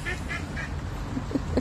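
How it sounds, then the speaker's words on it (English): Ducks squabble outdoors by the Elbow River, with short nasal quacks and honks in quick bursts near the mic over a low rumbling background. "you can't get over the ducks this morning"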